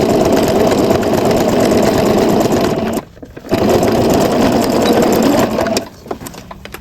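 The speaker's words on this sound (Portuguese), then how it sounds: "A gente começa a costurar com um pé de máquina" A sewing machine stitching fabric, joining the main fabric to the lining, running in a steady loud whirring burst, pausing briefly, then resuming before stopping.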